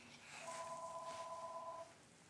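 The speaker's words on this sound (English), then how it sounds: "Phone is ringing." A telephone rings once, a steady electronic two-tone chirp lasting over a second, faint and somewhat distant against quiet room noise.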